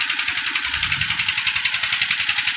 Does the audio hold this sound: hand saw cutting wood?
no